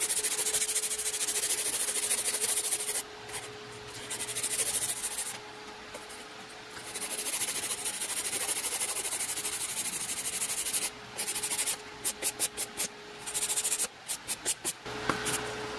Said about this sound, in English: I'm just gonna take my file and kind of give it a one sort to smooth it all out.